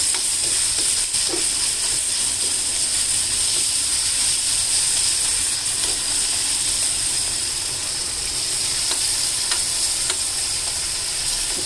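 Tomatoes with salt cook in a hot pan for a Telangana brinjal-tomato curry, giving a steady, even sizzle and hiss with occasional soft scrapes and taps of stirring, no talk.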